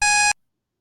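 An activity countdown timer gives a single short electronic beep as time runs out, loud and close, then silence.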